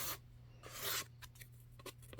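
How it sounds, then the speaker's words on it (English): A small sanding block scrubs along the rough edge of chipboard cut from a pizza box, giving a few short, close rasping strokes, the longest in the middle, over a faint steady hum. "just sand that down"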